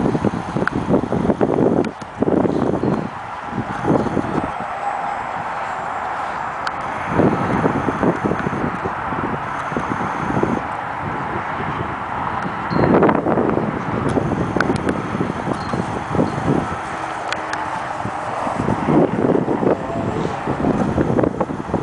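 Strong wind buffets an outdoor microphone with heavy, continuous low rumbling gusts that rise and fall throughout, loud and alone.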